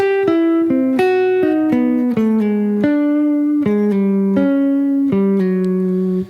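A clean, sustained jazz electric guitar plays a smooth melodic line of connected single notes, with slides between pitches and no pauses.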